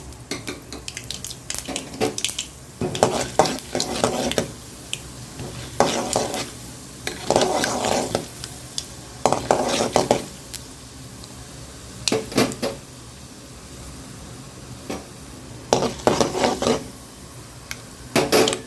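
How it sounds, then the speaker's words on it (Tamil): Mustard seeds, chana dal and urad dal crackle in hot oil for an okra fry, with repeated bursts of spoon-scraping stirs over a continuous close sizzle. "எண்ணெய் காஞ்சிச்சு கடுகு கடலைப்பருப்பு உளுத்தம்பருப்பு"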